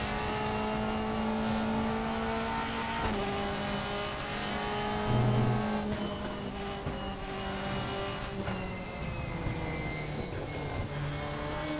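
Race car engine lapping Assen TT Circuit in the RaceRoom racing game, a steady high-pitched drone that rises and drops with gear shifts and throttle changes, close and continuous for the whole stretch.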